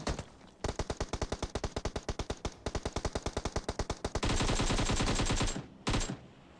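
Rapid automatic gunfire in PUBG Mobile, a fast even rattle of loud close shots that runs for several seconds, blurs into a continuous roar near the end, then breaks off with one final short burst.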